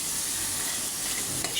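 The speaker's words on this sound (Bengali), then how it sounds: "ঢাকনাটা খুলে এখন আবারও নেড়ে দিব" Vegetables frying in a pan for a potato-tomato koi fish curry hiss and sizzle steadily while being stirred, close and continuous, with a faint scrape near the end.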